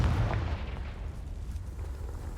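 A fiery Confringo spell blast bursts in a video game, a deep booming rumble that swells at once and then rolls on as a steady roar, with no talk over it.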